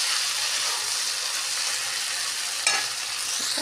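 Pigeon meat fries with spices, dried chilli and ground chilli in a pan, a steady close sizzle with a brief scrape of stirring near the end and no voices.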